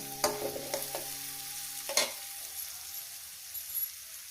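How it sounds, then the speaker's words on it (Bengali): Chopped onions frying in a pan for a small river fish and Malabar spinach dish, a soft sizzle broken by several sharp scraping stirs, fading quieter toward the end, no talking. "পেঁয়াজ কুচিটাকে দিয়ে মিনিমাম আমি দু মিনিট এটাকে ভেজে নেব"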